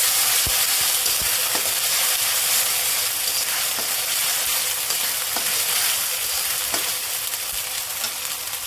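Onions fry in a pan with ginger garlic paste for a Bengali rui fish curry, giving a steady loud sizzle broken by scattered pops and occasional stirring scrapes.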